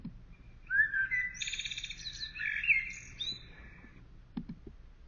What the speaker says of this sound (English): The vocalization of bird 1